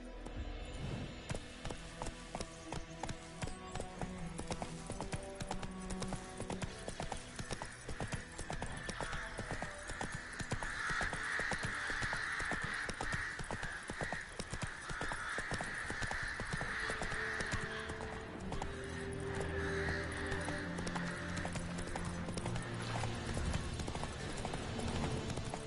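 Roach the horse galloping in Witcher III, a fast continuous drumming of hooves kept up at an even pace and moderately loud, with faint game music and ambience underneath.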